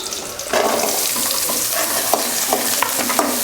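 Small onions sauté in a pan for a village-style tiffin sambar, giving a steady close sizzle with occasional stirring scrapes and clinks throughout, and no voices.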